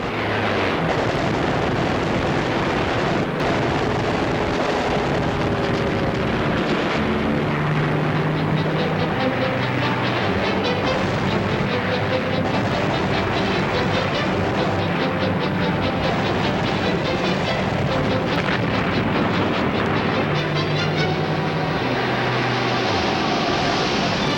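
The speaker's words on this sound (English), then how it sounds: "The British planes attack the enemy squads in furious clashes" WWII British and German fighter planes clash in an aerial battle, a dense, loud, continuous roar of propeller engines with layered droning tones rising and falling throughout, punctuated by sharper bursts.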